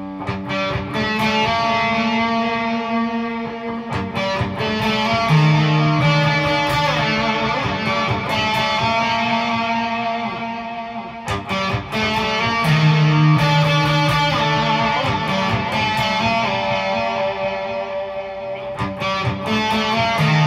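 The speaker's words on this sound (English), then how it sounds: "let's try some delay and just play with the volume on the guitar and see how much headroom this Direwolf actually has as well" Electric guitar played through a Highwind Amplification Direwolf overdrive pedal with delay added, giving sustained, driven chords and ringing notes with echoing repeats, loud and steady throughout with no talking.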